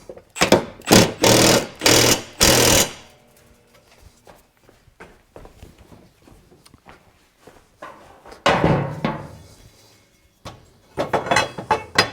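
A power driver tightens bolts on a John Deere D105 lawn tractor during a tune-up, with loud whirring bursts near the start and again toward the end, separated by quieter clicks and handling noises.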